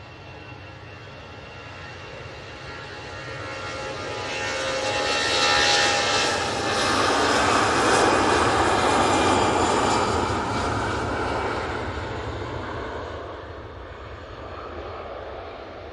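Airliner departing Manchester Airport for Pisa, a broad jet engine roar that swells to a loud peak midway and slowly fades, with no voices.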